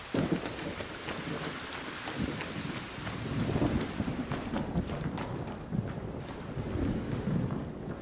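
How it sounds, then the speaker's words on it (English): Rumbling, windy roar of an electromagnetic storm with lightning strikes in a video game, a continuous dense wash of noise with soft swells, no voices. "an electromagnetic storm is currently raging over topside. Beware the lightning strikes if you're outdoors."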